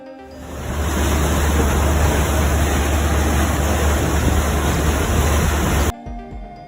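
Ocean waves roar in a loud, steady rush of surf that fills the air and then cuts off abruptly.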